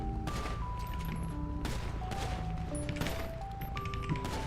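Rapid gunfire in a police roleplay video game, sustained bursts of shots running loud and dense through the whole stretch over game music and engine drone, with no voices.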